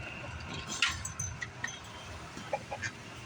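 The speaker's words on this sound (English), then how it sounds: "Roosters are making all kinds of noise this morning" Roosters call out several times against a noisy outdoor background, with scattered bright crowing and clucking bursts, moderately distant and not very loud.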